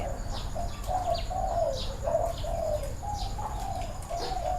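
Spotted doves coo repeatedly in soft, mellow phrases, with faint chirps from other birds and a steady outdoor hum in the background.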